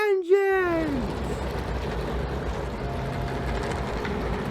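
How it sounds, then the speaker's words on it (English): NASCAR race car engines fire up on the Toronto street course, a sharp rising start followed by a loud, continuous rumbling roar. "It's great to hear the engines fire up as the cars are now rolling off here in Toronto"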